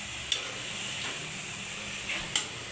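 Keema sautés in a pan with a soft, even sizzle, broken by a few sharp ticks of a spatula scraping and tapping against the metal; quiet and close, with no talk.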